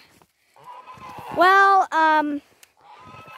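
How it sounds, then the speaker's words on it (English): Ducks and geese penned in a fenced garden enclosure after a big storm let out two loud, close, honking calls in quick succession, with quieter calls around them and a brief spoken word at the start. "I put the ducks and geese in the garden fence"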